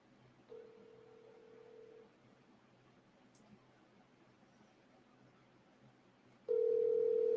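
A phone call placed on speakerphone rings slowly, with a steady tone in a short burst near the start and a louder tone coming in at the end, separated by quiet room noise.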